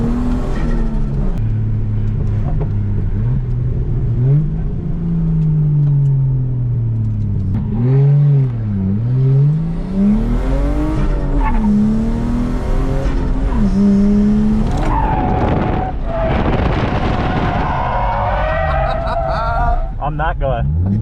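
A turbocharged Lexus IS200 drifting, its engine revving up and down in loud, repeated surges with squealing tyres, heard from inside the car while people talk over it.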